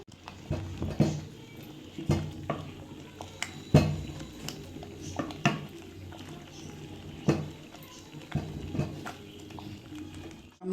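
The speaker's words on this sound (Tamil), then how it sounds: "நல்லா கொதிக்குது பாருங்கள். மத்துக்கட்டையில் கிண்டணும், அப்போ தான் நல்லா மசிஞ்சு வரும்." Thick millet porridge bubbling and plopping in a pot, with repeated soft thuds and scrapes of a wooden masher stirring at an irregular rhythm.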